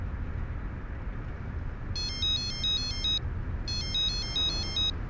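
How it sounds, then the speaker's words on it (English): A phone plays a ringtone for an incoming call, two bursts of a bright electronic melody over steady low road rumble, as if heard inside a moving car. "There's a call coming from Beth"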